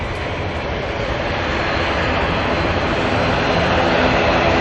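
An Antonov An-124 cargo jet at Auckland Airport produces a loud, steady, broadband engine roar throughout, close and unbroken.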